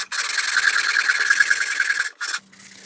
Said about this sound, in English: I took a long piece of 120 sandpaper and I taped it to this flat board, and I start going back and forth